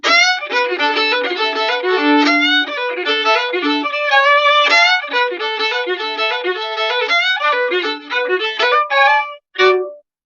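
A lively fiddle tune, the Chicken Reel, plays alone, its quick bowed notes and sliding squawks mimicking a clucking chicken, ending with a short final flourish.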